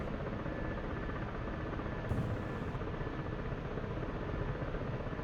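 Ka-50 helicopter engine in the DCS flight simulator, a dense, steady roaring whine held at an even, moderately loud level with no talking over it.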